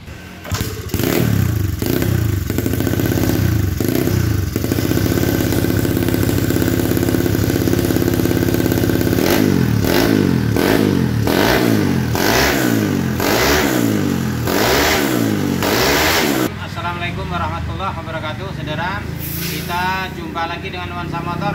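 A Honda Beat 130cc scooter engine idles with a steady low putter, then revs up in repeated rising bursts before settling back to idle, close and loud throughout.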